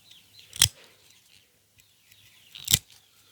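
A bamboo pin being cut with a small cutter: two sharp, crisp snips about two seconds apart, close and fairly loud against near silence.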